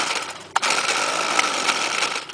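A Stihl two-stroke string trimmer engine catches after a sharp click and settles into a steady, raspy high-pitched idle that runs on without talk.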